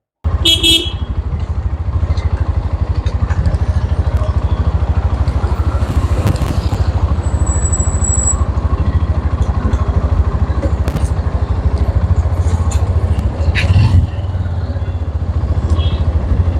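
A 2026 Hero Glamour X 125 motorcycle runs with a loud, steady engine drone that fills the whole stretch, broken by a brief higher tone midway and faint traffic sounds around it.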